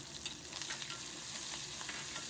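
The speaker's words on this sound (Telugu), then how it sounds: "వేసి ఒక్కసారి పోపునంతా బాగా వేగనిద్దాము" Continuous close-up sizzle and crackle of a tempering of spices, onion pieces and curry leaves frying in oil, steady and fairly loud throughout, with no voices.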